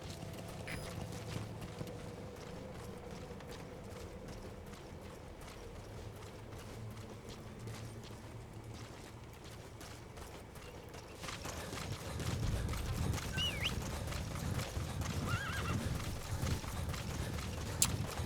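Horse hooves clip-clop steadily through a stealth stretch of Metal Gear Solid V: The Phantom Pain on PS3, a moderate galloping rhythm with ambient game sound that swells louder and busier in the final third.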